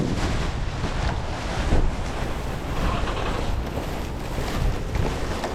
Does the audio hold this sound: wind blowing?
yes